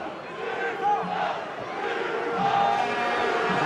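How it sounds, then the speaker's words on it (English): A rugby stadium crowd at a USAP versus Toulouse Amlin Cup quarter-final roars, cheers and shouts steadily throughout, a dense, loud wall of massed voices. "The crowd trying to be the extra man that's missing,"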